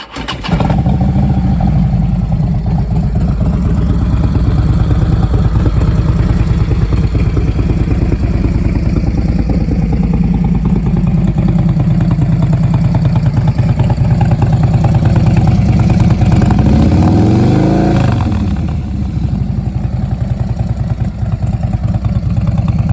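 A 2017 Harley-Davidson Low Rider S idles loud and close in a steady, rumbling throb, with a rising and falling rev swell near the end before it settles back to idle.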